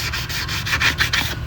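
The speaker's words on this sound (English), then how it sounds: "you gotta sand in between all the spots" Car wheel rims are sanded by hand before painting, the paper rasping in steady back-and-forth strokes, about eight quick rubs close up with no talking.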